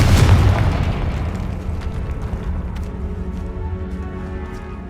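A big booming spell explosion in Hogwarts Legacy on PS5, the Confringo blasting curse, hits hard at the start and then rolls into a long rumbling decay with debris crackle.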